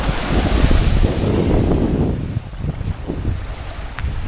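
Strong coastal wind buffets the microphone with loud, steady roaring gusts near Hamelin Pool, Western Australia, easing slightly toward the end, with water and surf faintly underneath and no talking.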